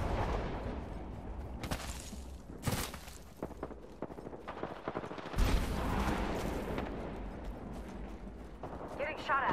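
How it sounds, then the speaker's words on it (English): Gunfire in the video game Apex Legends, scattered shots and short bursts at varying distance over a rumbling game soundscape, with talk mixed in. "Getting shot at."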